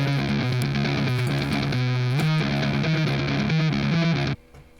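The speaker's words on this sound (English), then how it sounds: "I have the amp designer with some distortion on it." Electric guitar played through GarageBand's amp designer with distortion, a loud sustained riff of held and shifting notes that cuts off abruptly near the end.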